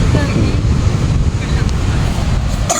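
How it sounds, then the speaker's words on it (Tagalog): Rough sea waves churn under strong wind buffeting the microphone, a steady, loud, low roar with no clear breaks. "Hindi mo mapakalma yung dagat."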